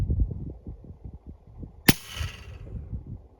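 A single suppressed subsonic 6.5 Creedmoor rifle shot fired at a 300-yard target: a sharp, brief crack with a short fading tail, heard over a steady low rumble with faint thumping before it.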